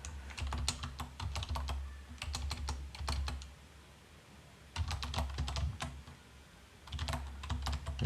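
Computer keyboard typing in bursts of quick, close key clicks, pausing briefly between words, with a steady low hum underneath and no talking.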